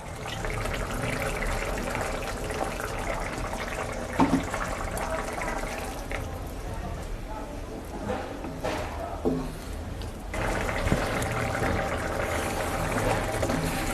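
Water pours steadily into a pan for Bengali duck egg curry (hasher dim kosha), a continuous close splashing rush that dips briefly in the middle and then resumes, with no voices.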